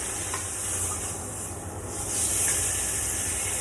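Steak searing in a hot pan gives off a steady, close sizzle and hiss, swelling slightly louder toward the end with no voices over it.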